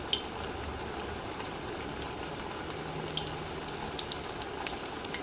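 Chicken kabab vada dropped into hot oil on a high flame, giving a steady, even crackling sizzle with a few sharper pops near the end and no talking.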